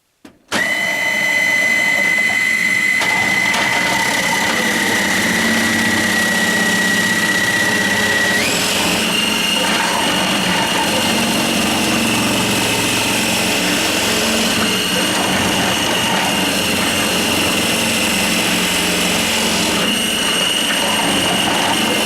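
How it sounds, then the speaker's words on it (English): Loud, steady whirring of a kitchen machine running continuously, with a high motor whine that shifts pitch partway through. "now we're going to use this Wonder machine over here, and that's pretty noisy"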